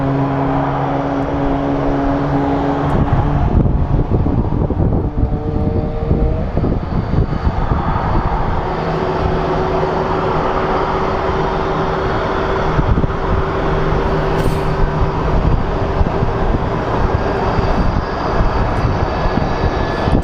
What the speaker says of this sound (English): you can actually hear the engines of a 737 starting up